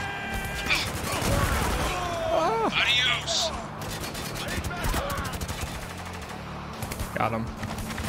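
Gunfire in the shooter game Spec Ops: The Line, bursts of shots and firefight noise running under shouted voices and radio-style speech throughout.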